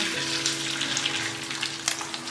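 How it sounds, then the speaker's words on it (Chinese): A seaweed and shrimp paste cake frying in plenty of hot oil in a pan gives a close, steady crackling sizzle with small popping spatters and a faint hum underneath. "然后把我们做好的紫菜虾滑的这一面放进来煎"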